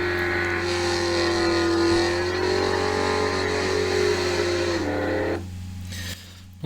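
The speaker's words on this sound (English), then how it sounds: "It almost sounds like it could be a Top Fuel dragster or something." A Top Fuel dragster engine roars loud and steady in a sustained burnout, holding a high rev before the note drops and cuts off abruptly near the end.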